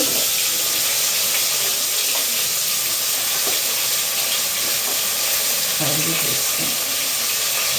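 Bitter gourd pieces frying in hot oil in a pan, a steady loud sizzle and hiss throughout with faint clatter from stirring partway through.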